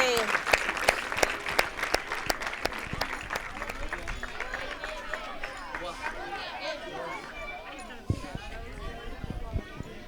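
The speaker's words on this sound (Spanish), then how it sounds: "Please give a big round of applause for our runners-up" A crowd applauds the runners-up from Northern Ireland at a Christian football coaching closing ceremony, with dense, sustained clapping that carries on steadily for the whole stretch.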